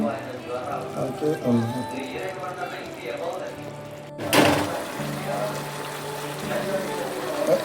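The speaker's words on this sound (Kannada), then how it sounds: "ಈಗ ಉಳಿದು ನೀರು ಹಾಕ್ತಿದ್ದಾರೆ." Water is poured into a cooking pot of salted, peppered food, a steady liquid pour with a sharp splash near the middle, heard close under ongoing talk.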